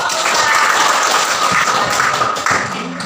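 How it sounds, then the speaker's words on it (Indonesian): A classroom of students bursts into dense, loud applause during a guidance lesson, a continuous wash of many hands clapping close by, easing slightly near the end. "Tepuk tangan"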